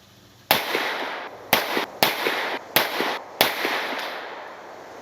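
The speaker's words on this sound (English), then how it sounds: "I filmed a 5-round confirmation group. I was shooting at 25 yards," Five pistol shots from a Masterpiece Arms DS9 Hybrid firing 124 grain Gold Dot rounds at a 25-yard range, each a sharp loud crack with a short ringing tail, spaced irregularly about half a second to a second apart.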